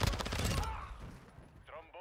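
A burst of rapid, loud machine gun fire in Modern Warfare II, set in the Mercado Las Almas map, cuts off after under a second, leaving a fading echo and a brief voice.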